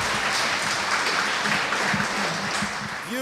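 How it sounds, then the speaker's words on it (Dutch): An audience at the opening of a zero-waste week event applauds for a performer, a steady broadband patter of many hands at moderate distance, with a voice briefly audible near the end. "mag ik een hartelijk applaus voor Danny"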